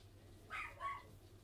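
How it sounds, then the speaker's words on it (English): A dog gives two quick barks somewhere in the background, faint against a quiet low hum. "Sorry for the barking."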